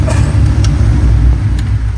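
A Cadillac CTS-V drift car engine with a leaky exhaust idles loudly nearby with a rough, low, sputtering rumble, steady over a couple of seconds with no talk.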